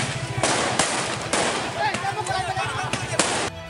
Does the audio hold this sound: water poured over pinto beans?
no